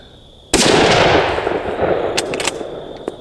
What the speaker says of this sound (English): Shoot this tank a little lower here and see what happens.